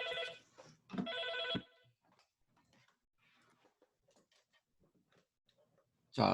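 A telephone rings in a lecture hall during a Korean automatic control engineering class, two loud bursts of ringing close by, followed by quiet room noise with faint scattered sounds before a loud burst at the end.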